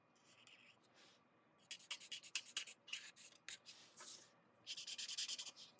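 A marker scratches and rubs across paper while coloring in a stamped image for a card, in short quiet strokes that come in irregular bursts, near and faint, with no talking.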